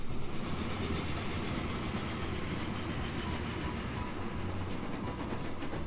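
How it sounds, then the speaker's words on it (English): A locomotive runs in the Transport Fever railway game, a steady, low rumbling train roll with faint clickety-clack, continuous and without talk. "So such a good looking locomotive here."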